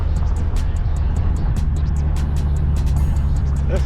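Ferrari engine on a street drive, its turbo boosting with a steady low rumble and a brief whistling rise near the end, under faint conversation inside the car.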